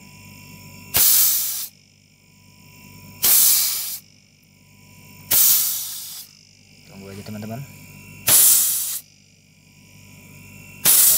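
Repeated bursts of hissing vapour escape from the condenser of a freezer compressor fitted to a small refrigerator, five loud sprays a couple of seconds apart, with someone talking briefly between them.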